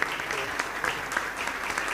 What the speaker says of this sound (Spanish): Un fuerte aplauso pues para este hermano.